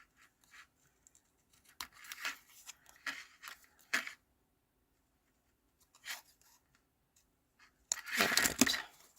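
Scissors cutting through stamped cardstock, irregular bursts of snipping and paper rustle separated by quiet pauses, ending in a louder, denser run of cutting close by.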